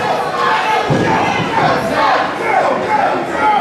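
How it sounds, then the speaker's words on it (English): A large, loud wrestling crowd roars and cheers continuously, with shouts rising over the steady din and a thud partway through. "these fans who are very loud. Very animated at the action they're seeing here"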